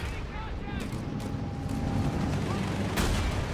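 Panzer IV tank shots in Company of Heroes 3 boom amid scattered battle gunfire, a few sharp reports over a busy, continuous wash of game noise, with commentators talking throughout.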